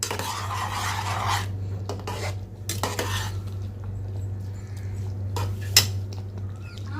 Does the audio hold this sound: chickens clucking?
no